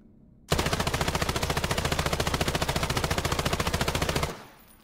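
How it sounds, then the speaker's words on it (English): A P90 fires in the battle royale game Islands of Nyne: one long, loud, rapid automatic burst of even rhythmic shots lasting about four seconds, then stopping abruptly. "Moving on to other guns here, we have the P90, which has some pretty difficult recoil"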